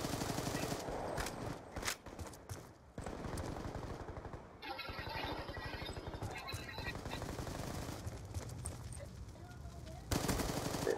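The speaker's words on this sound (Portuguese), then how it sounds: "eles estão trocando tiro ali" Sustained automatic gunfire from a Call of Duty: Black Ops 2 multiplayer match, dense rapid bursts that run almost continuously and stay loud, with brief breaks and a player's voice occasionally talking over the shooting.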